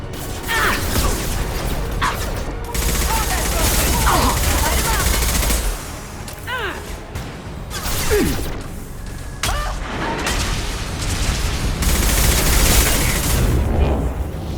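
Gunfire in the video game Mass Effect 2: sustained bursts of automatic weapon fire with crackling impacts, mechanical clanks and brief lulls, loud and close throughout, with short combat voice lines in the mix.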